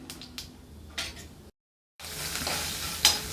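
A tempering fries in hot oil for a chutney, with green chillies going in, making a close sizzle broken by a few stirring scrapes and clinks, a brief gap of silence, then louder frying.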